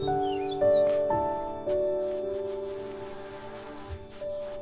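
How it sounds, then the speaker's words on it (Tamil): Cartoon rain sound effect in a children's animated story, a soft patter of drops laid over sustained musical tones with a few swelling accents, no voices. "மழை பெய்தது"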